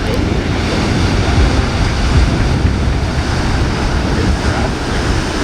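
Ocean swell and surf break at a rocky Vancouver Island shore near a marina, a loud continuous wash of churning water mixed with heavy wind rumble across the microphone, with no voices.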